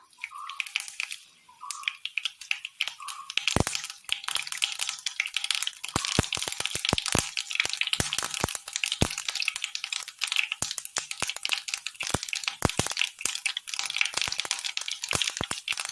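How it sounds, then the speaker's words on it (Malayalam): Mustard seeds splutter in hot oil in a pan, a dense run of sharp pops and crackles, irregular and close, over a faint sizzle for the whole stretch. "എണ്ണ നന്നായി ചൂടായി വന്നിട്ടുണ്ട് കടുക് കൊടുക്കാം"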